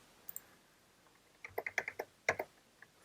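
Keys tapped on a computer keyboard while entering a number into a copy-trading platform: a few faint early clicks, then a quick run of close, crisp keystrokes and a final pair of sharper taps, quiet and with no talk.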